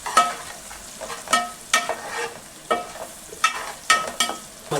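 Prawn and brinjal curry with turmeric stirred in a pan: repeated sharp scraping strokes of a spoon at a regular rhythm over a low sizzle, close and fairly loud, with no voices.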